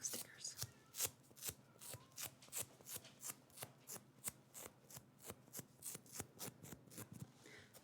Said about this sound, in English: Better stop messing around before I lose all the stickiness off my stickers.